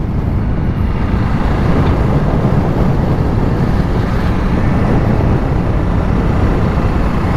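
Honda CRF300L motorcycle riding along tracks and twisty roads in the Philippines, heard as a steady, wind-buffeted roar that fills the whole clip, with a brief spoken phrase near the end.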